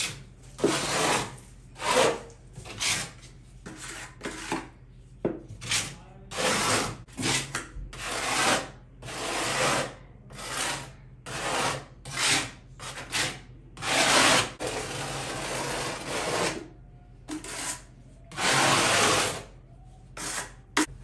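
A tool scrapes across wood in repeated back-and-forth strokes, each a rough, rasping burst of about a second with short gaps between, close and fairly loud.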